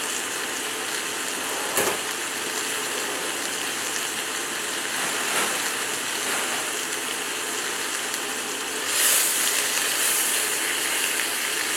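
Greens sauté in oil in a pan, giving a steady, close sizzling hiss with a few brief clatters and a louder surge of sizzle near the end, with no talking.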